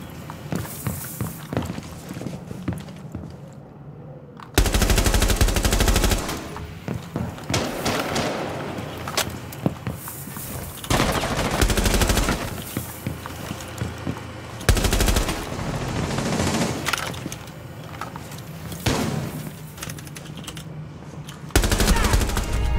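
Gunfire in a Rainbow Six Siege match, loud bursts of automatic fire and single shots recurring across the stretch, mixed with footsteps and thuds, no voices heard.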